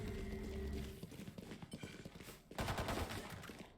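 Gunshots in a Valorant college match: quiet, rapid cracks and short bursts of fire, several shots in quick succession, with a heavier cluster near the end.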